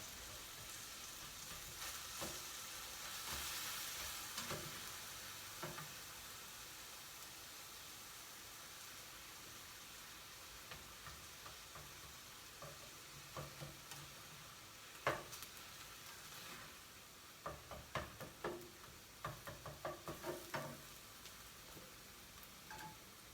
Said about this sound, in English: So I'm just gonna stir it up.